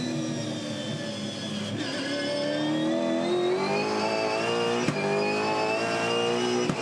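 A V8 Supercar race car at the end of a long straight, loud and close, its engine note dropping in stepped pitch falls through several downshifts and then rising steadily as it accelerates out of the turn.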